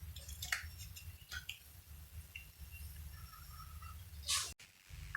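Faint, sparse drips of water fall inside a leaking school bus, a few small splats and ticks scattered over a low hum, with a brief handling knock near the end and no talk.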